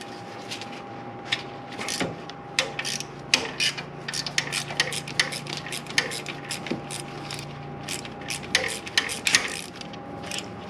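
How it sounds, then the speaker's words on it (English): A ratchet clicks in short, quick bursts while removing 10 millimeter bolts on a 2002 Chevy Corvette during a head gasket job, close and clear over a faint steady hum. "taking off all of these 10 millimeter bolts"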